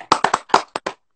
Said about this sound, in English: give him a round of applause right now